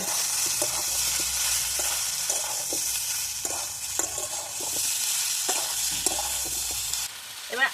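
Prawn biryani masala sautés with turmeric, sugar and coriander powder, a constant close sizzle broken by repeated spatula scrapes and taps against the pan, with a brief clatter near the end and no speech.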